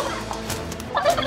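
Cartoon turkeys gobble in a short burst of warbling, throaty calls, loud and close, with no talking over them.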